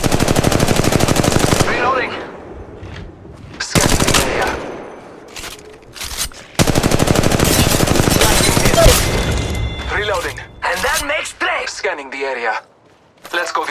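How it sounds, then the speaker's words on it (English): Rapid automatic gunfire in the Apex Legends Mobile shooter game, loud and close, in several long bursts with short gaps, later broken into choppier shots and brief callouts in a game voice. "Shooting."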